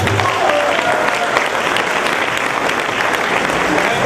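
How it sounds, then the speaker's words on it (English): A Renaissance Festival crowd gives sustained applause for magician Bill Palmer, a loud, dense, steady clapping from many people with a voice briefly over it. "Everybody give a great big round of applause for Bill Palmer."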